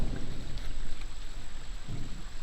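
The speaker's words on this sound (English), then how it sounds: "Boy, it is raining hard." Heavy rain falls steadily at a creek, a dense, continuous wash of close, loud patter with a low rumbling undertone and no voices.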